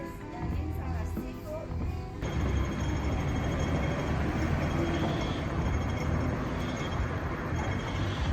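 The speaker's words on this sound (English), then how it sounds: "This is the tram," A Hong Kong tram passes along a city street: a steady, loud rolling rumble with rattling wheel noise that swells suddenly a couple of seconds in and then continues close by, with no voices.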